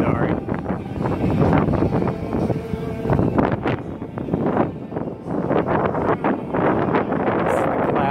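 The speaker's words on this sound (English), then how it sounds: "It's actually really windy." Gusty wind on Fremont Street in Las Vegas buffets the microphone with loud, rumbling low-frequency blasts that come and go throughout.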